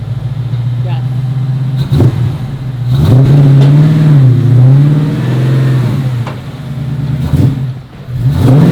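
A Ford GT40 engine pulls away and accelerates on a highway, a loud, steady mid-range drone that rises and dips in pitch through gear changes, close and dominant throughout.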